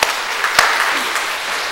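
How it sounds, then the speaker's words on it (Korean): A church congregation claps during a Sunday morning worship service, a dense, bright burst of applause with a few louder individual claps standing out. "자, 박수 한번 하겠습니다."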